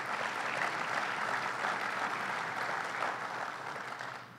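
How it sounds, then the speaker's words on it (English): Steady crowd applause at a governor's announcement of new gates opening at LaGuardia Airport, an even wash of many hands clapping throughout, tapering slightly at the end. "Let's give them a round of applause."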